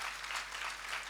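Audience applause at a Hindi spiritual discourse on positive living, a steady broadband wash of many hands clapping together, moderately faint and continuous with no talk over it.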